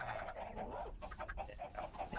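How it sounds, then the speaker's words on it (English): Chickens in a hardcore survival video game cluck softly and steadily, a faint, busy chorus of short overlapping clucks from a crowded pen, with no talking. "there were too many chickens in here"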